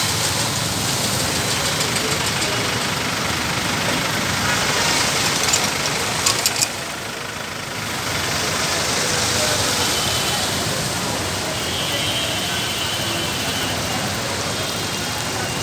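Cars and rickshaws moving along a flooded Dhaka street in heavy rain, a continuous wash of engine drone, splashing water and rain noise, steady and fairly loud, with a voice speaking over it.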